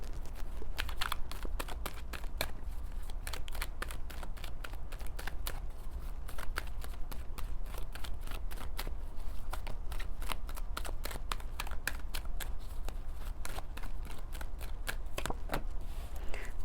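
Tarot cards being shuffled by hand in a quiet room, a steady stream of crisp riffling flicks and soft slaps repeating for the whole stretch, close and moderately loud, with no voices.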